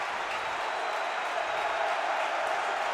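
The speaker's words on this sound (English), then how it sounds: "The crowd is getting into it here. They're on their feet." A basketball arena crowd at a college game between the Gophers and Maryland cheers and applauds on its feet, a steady wash of loud, continuous roar and clapping filling the whole stretch without letup.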